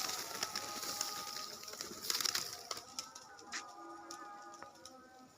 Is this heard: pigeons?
yes